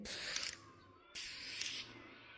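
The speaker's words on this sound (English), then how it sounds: "he pulls a spray can out to draw Skinner on the playground wall" A spray can hisses in two bursts, each about half a second long, close and fairly faint, as a boy tags a school playground wall in an animated Simpsons scene.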